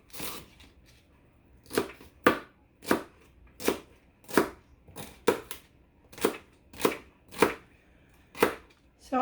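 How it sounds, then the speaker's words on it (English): Knife chopping through the last pieces of celery on a cutting board while making beef barley soup for canning, a series of about twelve crisp, close cuts in a fairly steady rhythm with no talking. "we'll just cut up this last little bit of celery"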